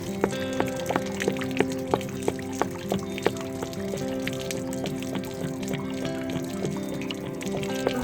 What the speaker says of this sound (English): Once the tank is fully drained, I'll make sure it's back in good and tight.